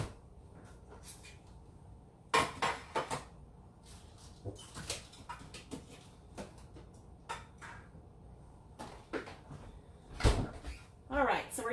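A refrigerator door is opened and closed in a home kitchen during dessert prep, giving a few soft thumps and knocks amid quiet handling clatter, with speech-like voices in the room between the bumps.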